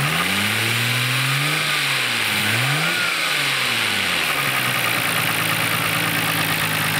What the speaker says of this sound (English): Okay, so the engine sounds healthy to me